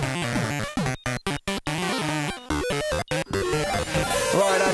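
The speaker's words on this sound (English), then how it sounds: "You're hearing the Game Boy's audio, froze, being sequenced by a sequencer that is sequencing oscillators" Frozen Game Boy DMG audio with oscillators injected into its CPU, its pitch stepped by a sequencer into glitchy, chaotic bleeps broken by abrupt silent gaps, loud and alone.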